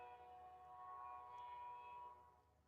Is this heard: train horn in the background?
yes